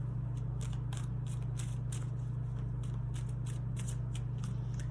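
Tarot cards are shuffled and handled close up, with a run of quick papery riffles and flicks over a steady low hum, and no voice.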